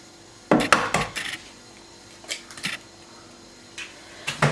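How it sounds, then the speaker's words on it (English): Cracked eggs and wet ingredients being mixed in a bowl for nut bread: irregular clusters of utensil clinks and knocks against the bowl, separated by quiet gaps, fairly close. "So we are going to crack our eggs first. Just try to mix all your wet ingredients together."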